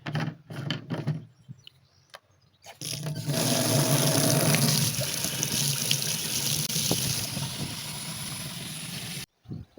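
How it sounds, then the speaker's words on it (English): Tap water rushes steadily into water canisters at a caravan park, a loud continuous pour lasting several seconds after a few short bumps and handling sounds. "So we're still filling up the water canisters."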